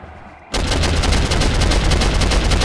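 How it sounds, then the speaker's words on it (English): Anti-aircraft guns in the shooter game Soldier of Fortune open up abruptly after a quiet half-second, then keep pounding in a loud, dense, continuous burst of rapid booming fire to the end. "AA guns."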